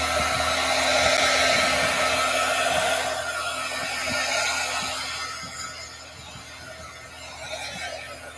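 A hair dryer runs loudly and continuously close by, its pitch and level shifting slightly as it is moved over a craft project.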